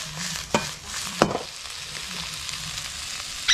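Noodles stirred and frying in a wok for Thai duck kua noodles, with a soft steady sizzle and a few sharp scraping clatters from a utensil against the pan.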